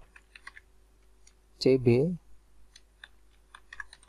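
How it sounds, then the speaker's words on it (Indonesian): Clicks of someone typing VBA code on a computer keyboard, soft scattered taps spread across the moment, with a short burst of talk in the middle. "di bawahnya kita ketik me.cb"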